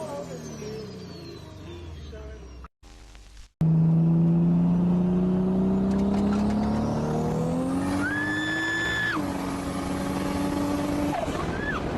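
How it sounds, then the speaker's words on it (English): A car does a burnout in front of a fast-food restaurant, its engine revving hard and rising in pitch while tires squeal in a long, loud screech before the revs drop back. "Burnout in front of McDonald's is not the greatest thing to do."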